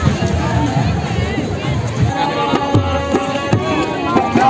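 A growing crowd at an outdoor rose festival, a dense, loud murmur of many voices with footsteps and scattered knocks close by, continuous throughout.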